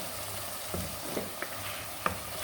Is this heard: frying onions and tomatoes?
yes